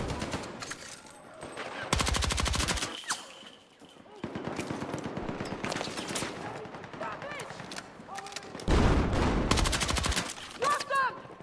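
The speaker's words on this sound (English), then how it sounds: "You got an LMG. Rip that shit." Light machine gun fire in a first-person shooter, loud bursts of rapid automatic shots in several long strings, with shouted voices and other gunfire in between.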